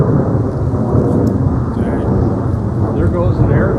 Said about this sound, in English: There goes an air tanker to a fire. That is a DC-8 or an L-1011.